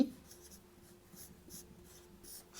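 A pen writing numbers on paper while working through a maths problem, giving faint, soft scratching strokes in short bursts close to the microphone.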